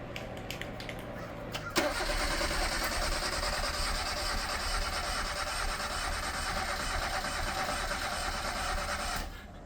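An old, cheap beater car cranks briefly, then its engine catches and runs steadily at a loud idle for several seconds before cutting off near the end, with no talk over it.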